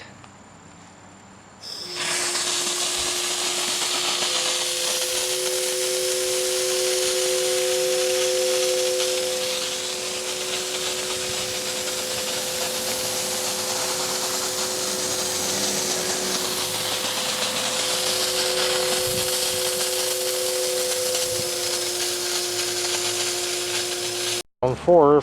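Compressed air blasts steadily through an in-ground sprinkler system's third zone during winterizing blow-out, a continuous loud hiss with a sustained tone that runs for over twenty seconds before cutting off abruptly.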